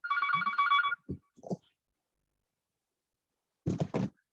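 A phone rings in a quiet room during a cell-biology teaching talk, one bright electronic ringtone burst followed by a few short thumps and later a cluster of louder knocks, with no talk over it.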